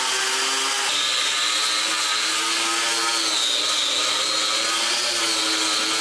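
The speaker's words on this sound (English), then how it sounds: "So I'm in here with this little grinder, hand grinding up all the glue." A small hand grinder grinds old glue off a floor, a loud, continuous high-pitched grinding roar with a steady whine that runs the whole time, close by, with no one talking.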